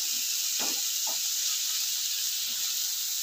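Fresh green peas frying with spices over a medium flame for dum aloo give off a steady, bright sizzle and hiss, with a few soft stirring knocks early on and no voices.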